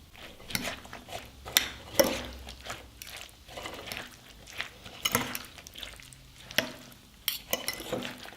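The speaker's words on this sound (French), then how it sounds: "ajouter des aubergines frites. Et mélanger le tout." Fried aubergines folded into Lebanese moussaka with tomatoes and chickpeas in a pan, irregular close scrapes and wet stirring sounds with soft sizzling between strokes.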